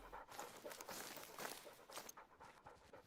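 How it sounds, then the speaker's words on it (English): A pet dog pants quickly and shuffles about nearby, soft rapid breaths mixed with light paw and movement sounds, faint and close in a quiet room. "that's my dog"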